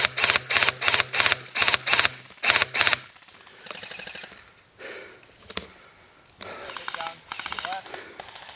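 Airsoft guns fire in a rapid burst of sharp, evenly spaced cracks during an outdoor game at a paintball field, followed by quieter scattered shots and people talking.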